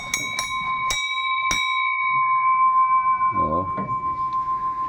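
An antique 19th-century brass bell is struck four quick times in a row, each ring leaving a long bright sustained tone that hangs on, with a voice speaking briefly near the end.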